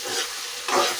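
Drumstick curry being stirred in a pan: a brief, soft scraping stir with a light sizzle underneath, a short stroke swelling near the end, no voices.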